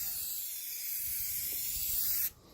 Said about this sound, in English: And then after that, you spray lightly.